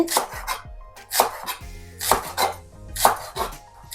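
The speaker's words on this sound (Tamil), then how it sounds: "இப்படி கட் பண்ணிக்கோங்க. இது வந்து லீக்ஸ் இதோட பேர்" Leeks chopped with a knife on a board, four or five crisp, evenly spaced chops close by, each with a short knock and rustle, no talking.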